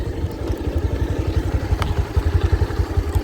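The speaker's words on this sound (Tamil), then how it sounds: "வண்டி ஸ்டார்ட் ஆயிடுச்சு" A vehicle engine running on a rough road near a mountain village gives a steady, close, rhythmic chugging with even low pulses throughout and no voices.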